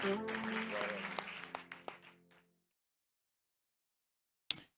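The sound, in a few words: congregation applauding in church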